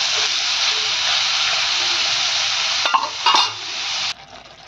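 Mustard masala frying in a pan, a loud steady hiss of sizzling oil that breaks into a few stirring clatters before cutting off near the end.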